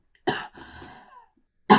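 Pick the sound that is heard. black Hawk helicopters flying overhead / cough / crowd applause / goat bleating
cough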